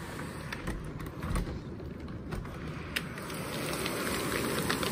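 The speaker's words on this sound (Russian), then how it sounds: "Хороший такой дождик льет." Steady rain pouring outdoors, a dense close hiss of drops that swells slightly louder toward the end, with no talking.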